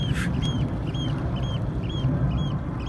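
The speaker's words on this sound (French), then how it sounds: "Ah ben en même temps, j'ai un oiseau qui s'exprime." A bird calls repeatedly in short, evenly spaced chirps over a steady low rumble of a passing aircraft near Tromsø on the Norwegian coast, the calls fairly clear above the background drone.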